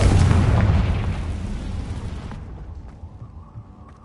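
A Confringo explosion spell going off in the video game Hogwarts Legacy: a loud, close fiery blast at the start that rumbles and decays over about three seconds into quiet.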